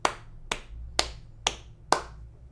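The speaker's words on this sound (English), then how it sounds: "Golf clap." Five slow, evenly spaced claps, close and crisp, a light sarcastic golf clap with no voices over it.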